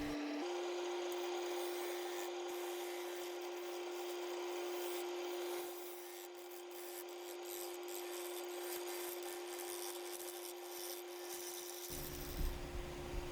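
A skew chisel flattens a spinning maple log on a wood lathe: a continuous scraping, rasping cut over a steady motor hum. It stays fairly quiet throughout, with no voices.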